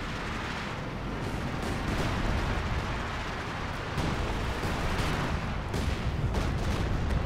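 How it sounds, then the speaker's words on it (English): A Stuka dive bomber's bomb strike in Company of Heroes 2 lands as a rolling series of heavy, crackling blasts that swell again partway through and carry to the end, with no talk over them. "Looks like we have a Stuka bomb coming in"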